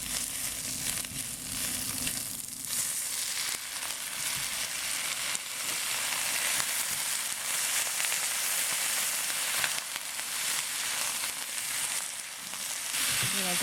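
Shrimp and baby bok choy frying in a pan: a continuous, fairly faint sizzle and crackle with occasional stirring scrapes, close by and steady throughout.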